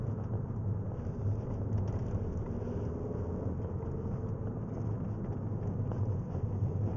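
Alfa Romeo Mito 1.4 TB MultiAir three-door driven on country roads, a steady low engine drone mixed with road and cabin rumble, continuous and even throughout with no voices.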